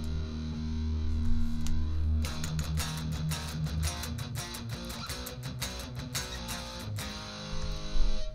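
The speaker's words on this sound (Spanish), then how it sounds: "Vamos a poner un rat para que sea una distorsión más" Electric guitar played through a RAT distortion pedal modeled on a Fractal FM3, into an amp with its own drive off: a steady distorted riff with sustained chords and rhythmic picked attacks, loud and alone throughout.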